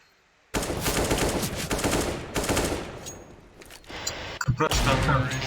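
Rapid automatic gunfire in CS:GO during a competitive match, loud bursts of rifle fire for several seconds with a brief gap, then more shots and impacts, with faint voices in the background.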